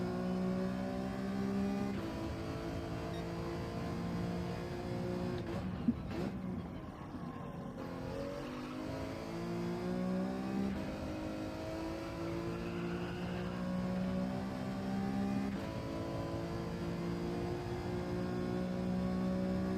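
A car engine in the Gran Turismo 7 racing game revs and holds a steady droning pitch, rising through gears with a short break mid-way, continuous and fairly loud with no talk.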